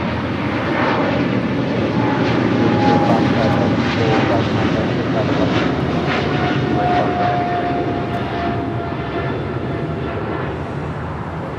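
An American Airlines airliner, flight 336, comes in to land at Los Angeles International Airport, its engines giving a steady, broad roar that holds for the whole stretch and eases slightly toward the end.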